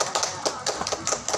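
A group of vocational high school students applauding during a classroom group guidance session, producing a short burst of scattered, uneven claps that sound close and fairly loud.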